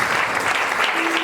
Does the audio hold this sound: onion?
no